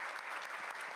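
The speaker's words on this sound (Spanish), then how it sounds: "antes darle un aplauso, por favor." Audience applause at a university lecture on constitutional reforms on gender equality, a dense steady wash of many hands clapping, fairly faint and continuous through the short moment.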